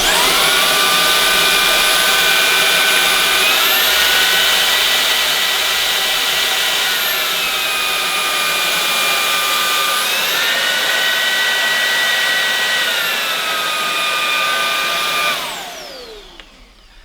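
A Shark WV362UKT cordless vacuum cleaner runs with a steady high-pitched whine that rises in pitch twice as boost suction kicks in and drops back, then winds down at the end.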